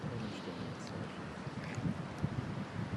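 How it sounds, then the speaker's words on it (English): Steady wind blowing outdoors, a continuous broad rushing roar with buffeting gusts against the microphone, fairly loud and unbroken throughout, no talk. "Listen to the wind."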